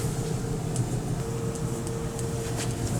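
A household clothes dryer hums steadily after being switched on, a loud continuous motor drone with a faint tonal whine and low rumble, its exhaust hooked up to a cleaned vent line; no voices.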